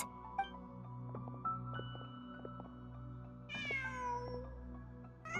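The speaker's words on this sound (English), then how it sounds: "Just a cat." A cat meows in Genshin Impact, one clear rising meow near the end over a quiet ambient game music bed, with no one speaking.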